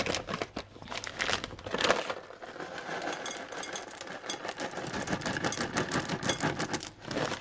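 Continuous rustling and crinkling as chocolate chips are tipped and scattered into soft cookie dough, close and steady throughout with small rattling pattering bursts.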